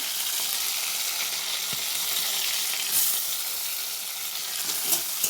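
Tomatoes dropped into hot oil in a Bengali home kitchen as part of a hilsa fish lunch. They set off a steady, fairly loud sizzle and frying hiss with faint stirring scrapes, and no one speaks.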